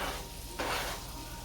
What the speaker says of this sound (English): And I'm going to put my chopped mushrooms down in there.